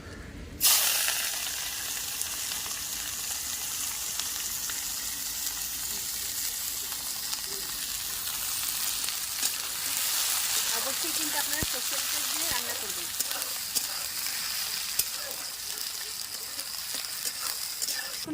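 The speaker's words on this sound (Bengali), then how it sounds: "পেঁয়াজগুলো এবার ভেজে নেব লাল লাল করে" Chopped onions fry in hot oil with whole cardamom and cinnamon sticks, giving a steady, close sizzling hiss that runs unbroken from just after the start, with faint stirring scrapes and soft voices in the background.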